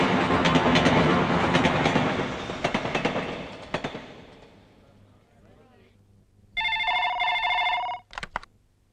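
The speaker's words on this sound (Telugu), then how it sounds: "అమ్మా శ్వేత, ఆ ఫోన్ చూడు." A telephone rings in short electronic bursts near the end, following loud clattering and a voice that fades out.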